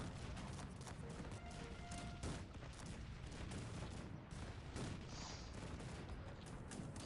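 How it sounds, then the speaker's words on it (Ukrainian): Cannon and musket fire thunders across a huge battle of about 12,000 soldiers in the strategy game Cossacks 3, a quiet but steady barrage of booms and volleys with no voices. "О, гарматки прилітають сюди"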